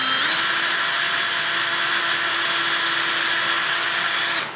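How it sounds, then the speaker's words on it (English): Power drill runs steadily for about four seconds, boring through a jig into a wooden workbench with a high, even whine that spins up at the start and cuts off at the end, close and loud. "I'm going to use my drill again, and I'm going to pierce this right through."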